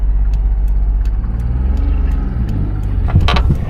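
An abandoned Geo Metro convertible's engine runs with a steady, loud low rumble as the car starts to move, its tone rising slightly near the end.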